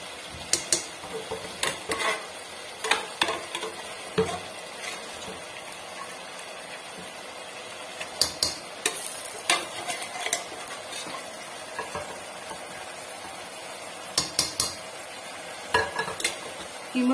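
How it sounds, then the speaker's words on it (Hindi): Half a kilo of minced meat sizzles in a hot pan while a spoon stirs it in bursts of scraping clatter over a steady frying hiss, no voices. "इसको हम अच्छी तरह भून लेंगे कीमे को।"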